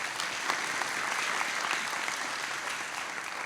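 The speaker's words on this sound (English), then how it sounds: "so round of applause for them again" An audience at a talk on urban tree care standards claps steadily in dense, sustained applause, fairly close and even in loudness throughout.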